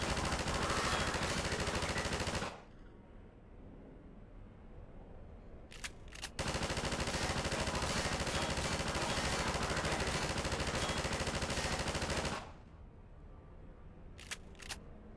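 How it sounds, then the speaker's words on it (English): Automatic turret firing in the Half-Life 2 VR game: loud sustained bursts of rapid gunfire, one long run from the start, then a brief pause with a few sharp cracks before another long sustained burst, ending with scattered shots. "I think this is gonna be a turret section. Turrets handle very oddly in VR."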